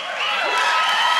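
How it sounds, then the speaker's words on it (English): A crowd at a political rally cheering loudly and steadily, a dense wash of many voices held for a brief moment with no pause. "And the crowd cheers."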